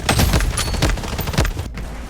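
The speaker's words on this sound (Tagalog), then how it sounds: "I'm under heavy fire." Heavy automatic gunfire rattles in a shooter video game, with dense, rapid shots overlapping in a continuous loud barrage and no one talking.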